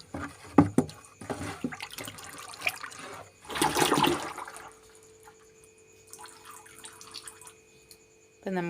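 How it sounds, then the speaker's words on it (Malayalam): Palm oil poured from a bottle into a container for making cloth and dish-wash bar soap, a gurgling liquid splash and trickle with a few bursts, clearest in the middle, then quieter dripping. "അതാണ്ട് പാം ഓയിൽ ഒഴിക്കുകയാണ്"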